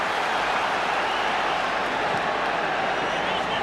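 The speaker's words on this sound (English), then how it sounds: "sportingly applauding the save by the goalkeeper" A football stadium crowd at a 1993/94 Premier League match between Manchester United and Norwich City applauds a goalkeeper's save, a dense continuous roar of clapping and cheering filling the whole moment.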